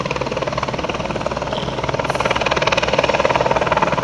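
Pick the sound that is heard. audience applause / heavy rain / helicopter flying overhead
helicopter flying overhead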